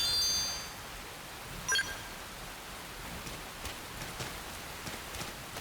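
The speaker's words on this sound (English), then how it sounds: "it sounds like the rain sound effect is bugged" Continuous soft, hissing rainfall in Xenoblade Chronicles X, with a glitchy, uneven quality and a faint brief ding partway through.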